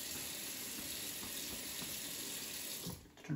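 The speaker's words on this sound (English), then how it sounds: "use your towel to turn off the water" Tap water runs steadily and loudly into a sink during hand washing, then cuts off abruptly near the end as the faucet is shut using a towel.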